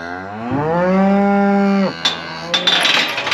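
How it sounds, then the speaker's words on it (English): A single long, loud moo from cattle held in a pen with two steers and a cow, followed by scuffling and knocking noises nearby. "All I've got left in the pen here are 2 steers, 1 cow"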